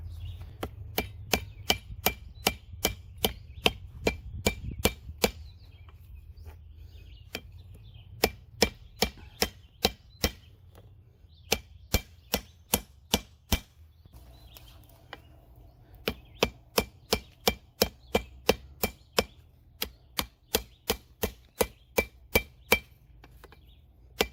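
A forged spearhead is hammered on a small anvil in bursts of sharp, ringing metallic strikes, close and steady in rhythm, with short pauses between groups of blows.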